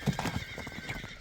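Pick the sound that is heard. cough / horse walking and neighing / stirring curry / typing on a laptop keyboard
horse walking and neighing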